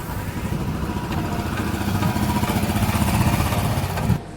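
A motorcycle rides onto the Amity University Gurugram campus, its engine chugging nearby at a steady, moderate pace and slightly rising before cutting off abruptly at the end.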